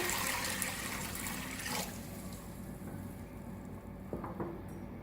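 Water pours steadily into a cooking pot for chicken yakhni, a rushing splash that fades after about two seconds into a quieter trickle, with a couple of faint knocks near the end.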